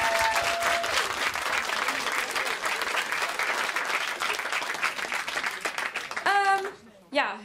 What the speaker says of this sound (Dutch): Nog een heel groot applaus voor Trance.